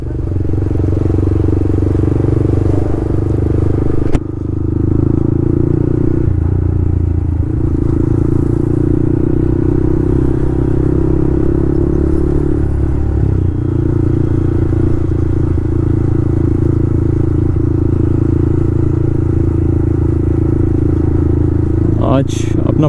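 Yamaha MT-15 motorcycle with a loud Akrapovic full exhaust system, heard while riding: a continuous deep engine drone with shifting revs, close and loud throughout.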